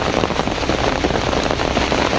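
Steady, dense rain pattering on a surface close by, a continuous wash of drops with no voices, lasting about two seconds.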